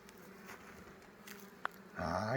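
Honeybees humming at a hive opened to check the wax foundation, a low steady drone under faint handling noises, louder at the end.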